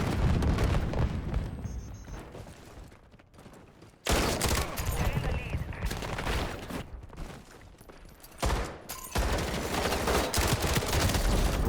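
A Semtex grenade going off in a Call of Duty: Modern Warfare firefight: loud, dense bursts of blasts and gunfire with abrupt cuts and renewed volleys, heavy and close throughout.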